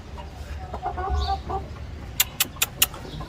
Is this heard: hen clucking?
yes